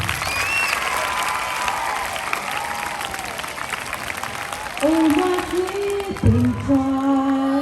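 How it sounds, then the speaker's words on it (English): Sustained audience applause at a school Children's Day event, steady dense clapping from the crowd with voices and singing rising over it toward the end. "They deserve a big hand clap."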